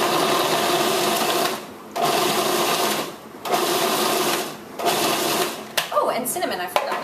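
Food processor pulsing pecans and dates, loud motor bursts in four pulses of roughly one and a half seconds each with short gaps, followed by brief clattering and a voice near the end.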